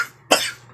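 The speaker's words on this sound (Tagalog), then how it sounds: "ito inuubo ako" A single sharp, loud cough from a person with a cold caught in the rain while catering an event, close to the listener, with a brief breathy tail fading out.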